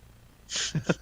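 A single sharp, close sneeze with a quick breathy burst is followed by two short snorting sniffs, in a quiet room during a tabletop game session.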